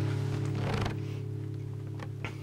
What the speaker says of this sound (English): you should get a sound like this when you strum all the strings